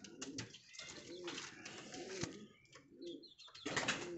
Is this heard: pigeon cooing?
yes